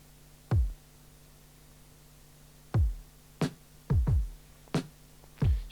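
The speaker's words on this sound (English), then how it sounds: "You can hear the kick drum is definitely more electronic-esque" Hybrid drum track of programmed electronic and live drums: deep, booming electronic-style kick hits with a falling pitch land in an irregular sparse pattern, mixed with a few sharper hits over a faint background hum.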